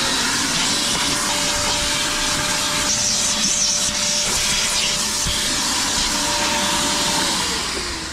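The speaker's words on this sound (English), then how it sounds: "The interior is all vacuumed out now." A vacuum cleaner works through the interior of a 2024 Ford Mustang GT S650, a steady loud broadband whoosh with a faint constant whine that runs the whole time and tapers slightly at the end, with no voices.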